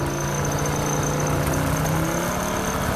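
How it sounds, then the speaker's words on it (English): A car engine running rough and uneven, as though two engines were turning at once, with a steady droning hum and pulsing low rumble that continues unbroken and fairly close throughout. "that sounds like there are two engines running at the same time"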